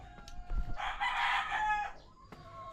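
A rooster crows loudly in one long drawn-out call, with a few short clucks and farmyard knocks around it, near a chicken coop.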